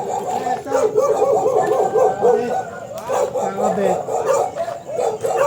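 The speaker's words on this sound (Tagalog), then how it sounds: "May aso ba dyan?" A dog yips, whimpers and barks in short, uneven bursts close by, mixed with people talking over it throughout.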